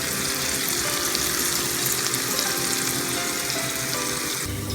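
Mushrooms, celery and onion sautéing in a pan give a steady, close, broadband hiss and sizzle that runs unbroken throughout, with no voices.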